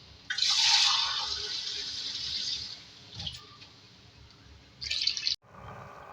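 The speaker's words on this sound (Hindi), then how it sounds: "अब इसे पानी डालेंगे गलने के लिए" Two glasses of water are poured into a cooking pot of beef and potato curry (aloo gosht) with tomatoes. The pour is a steady, close splashing rush of about two and a half seconds, followed later by a brief second splash.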